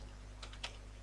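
A few faint, brief key clicks on a computer keyboard over a steady low hum, with no voices.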